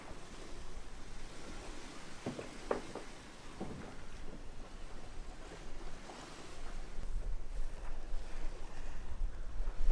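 Sailboat running downwind with the genoa out on the open sea off Denia, its hull washing through steady waves under constant wind rumble, with a few brief knocks and creaks near the middle and the surf swelling louder toward the end.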